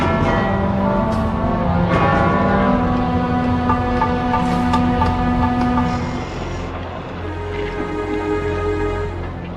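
Church bell ringing with sustained tonal strikes over a dense, steady wash of sound, loud throughout and easing slightly in the second half.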